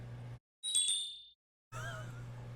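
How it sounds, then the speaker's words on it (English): Chimecho's cry from a Pokemon video game, the Wind Chime Pokemon: a short bright chiming ding with ringing tones, set between two stretches of low background hum. "it is now known as the Wind Chime Pokemon, and its cry sounds like this"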